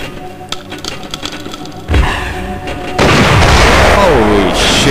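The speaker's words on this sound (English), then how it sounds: "set the payload to cluster bomb and throw it at the next hologram target" A cluster bomb goes off in the video game Archer's Mind as a string of booming bursts that builds into a louder, sustained rumbling roar with crackle near the end. Game sounds play underneath throughout.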